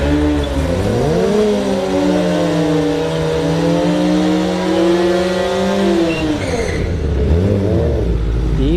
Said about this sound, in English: These bikes are usually going mid-9s in the quarter mile.